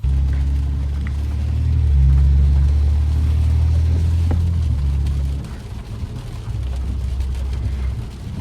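A BMW F10 with a straight pipe exhaust drives at night, its loud, close, deep exhaust rumble swelling as the engine revs and then easing back to a steady drone.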